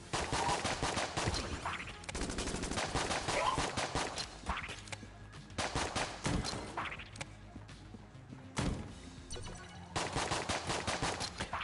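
A railgun fires again and again in the video game Enter the Gungeon. Loud, dense bursts of gunfire crowd the mix almost without a break, with only a few short gaps between volleys.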